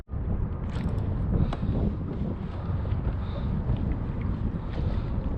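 Steady wind buffets a fishing boat drifting for fluke off New York in a wind-against-tide chop, a continuous loud rush and microphone rumble filling the whole stretch with no talking.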